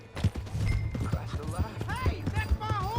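Horse hooves in Red Dead Redemption 2 thud in a quick, rhythmic clip-clop at close range, mixed with voices and game sounds.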